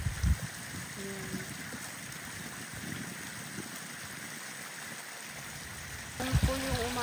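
Water from a waterfall in the middle of a lake in Georgia flows and trickles as a steady, moderate wash, with brief low thumps at the start and a louder burst of disturbance near the end.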